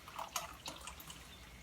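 Liquid from cooking wild lettuce is poured into a pot, heard as faint, quiet trickling and a few soft drips over a steady background hiss, with no talking.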